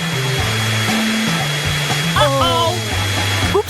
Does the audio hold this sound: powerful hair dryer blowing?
yes